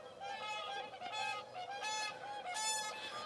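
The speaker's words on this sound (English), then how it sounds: "Oh, there are more and more coming in now. More and more swans." Swans flying in over a field near the International Crane Center outside Kushiro, Japan, give repeated honking, bugling calls at moderate distance, several overlapping in an irregular chorus.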